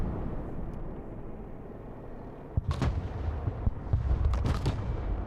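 Artillery fire in the war video game Broken Arrow booms over a dense battlefield rumble, with several sharp blasts and cracks scattered across the second half.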